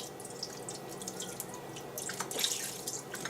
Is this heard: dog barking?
no